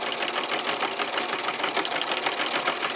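A household sewing machine gathering ruffles, set to every six stitches, running loud and close with a fast, steady mechanical chatter and rhythmic knocking pulses, without talk.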